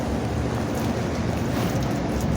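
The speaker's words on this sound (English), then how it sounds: "It's raining hard." Heavy rain pours down in a loud, continuous broadband wash, dense and unbroken, with a faint whoosh like wind or water, and nobody speaks over it.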